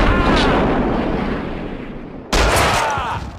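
Gunfire in the video game Max Payne 2: a dense, loud wash of shots and blasts runs continuously, easing slightly before a sharp new burst near the end, with no clear talk.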